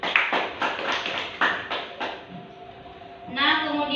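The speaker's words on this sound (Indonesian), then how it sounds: "Tepuk tangan dulu untuk Asiza." A few sparse hand claps ring out in a classroom for a student, Asiza, with scattered taps fading after about two seconds while a voice speaks near the end.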